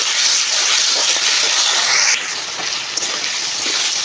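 Potatoes fry in hot oil on a clay stove, giving a loud, steady broadband sizzle that drops slightly after two seconds and then carries on hissing without pause.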